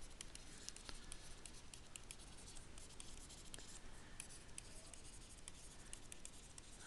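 Pen writing on paper or a board during a maths lesson on asymptotes, a steady soft scratching with brief tapping strokes, faint and close, with no talk.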